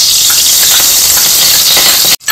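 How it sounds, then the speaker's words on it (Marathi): Loud, steady sizzling hiss of ghee heating in a hot wok, close and continuous, cutting off abruptly near the end. "कढई गरम झालेली आहे। आता आपण पुलाव करूया। त्यासाठी मी तूप घालत आहे"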